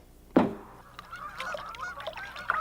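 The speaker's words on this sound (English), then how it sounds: "The sound of geese heading north" Geese flying north over a wilderness lake honk, starting with one loud, close call and followed by a chorus of overlapping honks from the flock.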